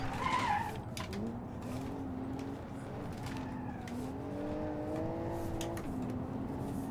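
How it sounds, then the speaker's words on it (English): A Porsche 911-style rear-drive car in the BeamNG driving game corners hard on throttle, its engine holding a loud, steady droning note that rises and dips slightly. A scrubbing tire hiss runs continuously underneath. "I'm using the throttle a whole lot here to make it turn in more"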